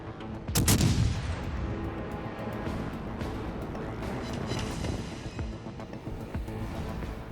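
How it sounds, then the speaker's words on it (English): The main gun battery of the battleship USS Nevada fires in World of Warships Legends, a loud booming salvo early on that rolls into a long, rumbling roar of sustained gunfire and explosions. "I'm shooting towards the bow of the Iron Duke"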